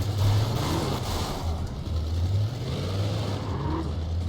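A monster car in the game Alan Wake drives along with a steady low engine drone that swells and eases in pitch now and then, loud and continuous, with no talk.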